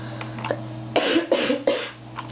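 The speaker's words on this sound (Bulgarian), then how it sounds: "Ще ми извинявате, че кашлям, много съм болен" Several close, harsh coughs from a sick person come in quick succession, loud and raspy, with no one talking.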